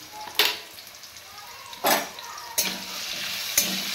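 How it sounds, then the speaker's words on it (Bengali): Potatoes fry with salt and turmeric in hot oil, a steady soft sizzle broken by four distinct stirring scrapes spaced through the clip, close and moderately loud. "আলুটা ভেজে নেবো, একটু নুন দিয়ে দিলাম।"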